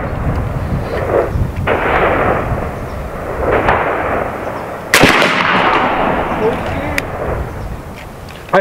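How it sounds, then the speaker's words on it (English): Shots from an AEA Zeus .72 caliber air rifle fired at a target board at 50 yards, with a sharp report near five seconds and a fainter one near seven over steady outdoor background noise. "Back to the target board and firing."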